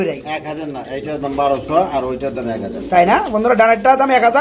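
Pigeons, including Danish and magpie breeds, coo repeatedly at a bustling pigeon market, their throaty rolling calls overlapping loudly and close by while people talk nearby.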